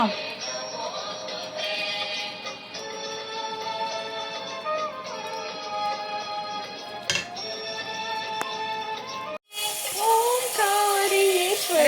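A kitchen tap running while paniyaram and tea are being made, a steady stream of water flowing for several seconds and then a louder, fuller gush near the end, with faint background sounds underneath.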